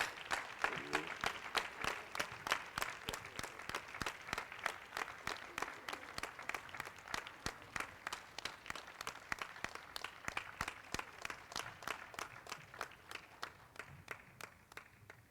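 Conference attendees stand and applaud an environmental justice award recipient with steady, crisp clapping that keeps a strong, even rhythm for a long stretch before tapering slightly near the end.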